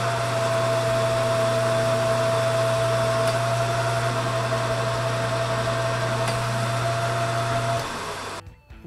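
A machine tool takes light cuts on a bicycle frame headtube holding fixture, working close to an inch-wide rod; a steady, loud mechanical whine with a constant hum runs throughout, then winds down and stops near the end.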